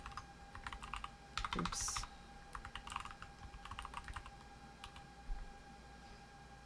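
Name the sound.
typing password on computer keyboard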